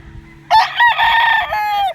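A straight comb gamefowl rooster crows once on a Batangas game farm, a loud close drawn-out call over faint low background noise.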